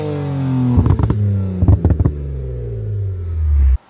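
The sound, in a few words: BMW 335i car engine with upgraded turbos running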